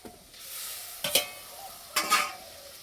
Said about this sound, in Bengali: এবার দেবো ভেন্ডি।